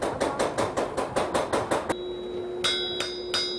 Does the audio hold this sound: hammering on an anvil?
yes